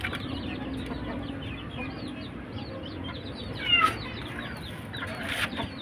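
Soft clucking from a chicken over a steady outdoor background hum, with a brief louder squawk midway and some rustling near the end.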